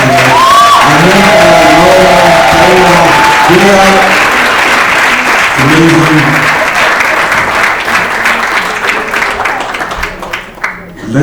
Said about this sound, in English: I do want you to give a huge round of applause for these amazing panelists.